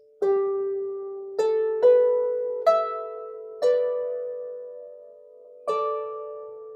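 Two bars of chords from a Celtic Christmas workshop, played as six plucked or struck chords that ring and slowly decay, each fresh attack layered over the fading one before it, clear and close in an otherwise quiet room.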